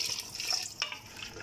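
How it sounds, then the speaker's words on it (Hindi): Water poured into a pot of frying meat and potato curry (aloo gosht) in a pressure cooker, a soft, brief splashing stream with a small splash partway through. "अब हम इसमें पानी ऐड कर लेंगे।"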